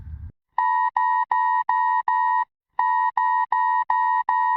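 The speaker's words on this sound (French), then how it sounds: "il y a le téléphone qui se met à sonner avec l'alarme hyper inquiétante là" A loud electronic weather emergency alert blares from a phone in repeated steady pulses, five in a row, a brief pause, then five more, harsh and piercing.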